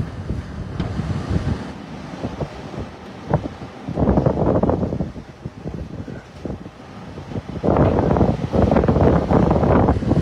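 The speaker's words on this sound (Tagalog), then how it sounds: "Ibig sabihin, malakas pa rin yung hangin." Strong typhoon wind buffeting the microphone in loud roaring gusts that rise and fall, swelling hardest toward the end, during the height of Typhoon Uwan under dark clouds.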